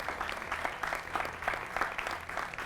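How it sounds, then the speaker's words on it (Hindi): Studio audience applause welcoming guests on a Hindi television news debate show, a short steady patter of many hands clapping, fairly faint and continuous. "जोरदार तालियों से उनका भी स्वागत कीजिए"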